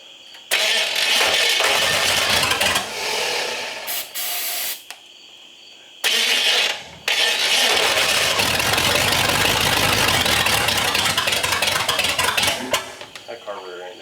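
A big block V8 in an old Chevrolet squarebody dually truck cranks and roars to life, then runs loud and rough with a heavy mid-range rumble, briefly cutting out before restarting and idling on.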